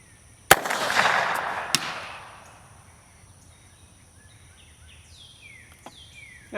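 An AR15 fitted with a golf ball launcher fires outdoors at steel targets about 95 yards away: two sharp cracks about a second apart, a brief rushing whoosh after the first, then quiet with faint birdsong.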